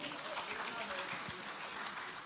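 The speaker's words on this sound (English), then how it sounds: "I think we should clap for him." An audience at a BUA Cement shareholders' annual general meeting claps, a soft, steady patter of applause from a crowd mixed with voices in the room.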